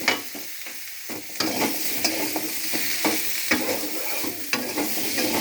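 Spices for a rohu fish curry with potato and papaya being stirred in a hot pan, a continuous sizzle broken by repeated spatula scrapes and taps, close and steady.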